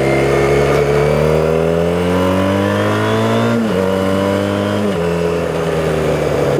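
A Honda CBR 450SR motorcycle accelerates hard. Its loud, close engine note climbs steadily, then drops briefly at two gear shifts before rising again.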